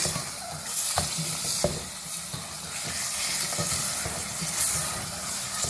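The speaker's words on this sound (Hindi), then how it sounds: "इसको हल्का सा फ्राई करेंगे ऑयल में" Ingredients frying lightly in oil for mutton korma, a steady broadband sizzle with occasional stirring scrapes and pops throughout, fairly close and loud, no voices.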